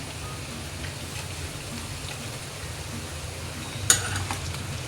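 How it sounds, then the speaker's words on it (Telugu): Half a kilo of cut brinjal pieces frying in a pan, a faint steady sizzle and crackle throughout, with one sharp clink of a utensil near the end. "½ కిలో వంకాయలని మనం ఫ్రై చేసుకుంటున్నామండి"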